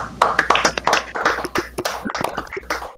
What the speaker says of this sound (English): let me ask everybody to turn on their microphones for a round of applause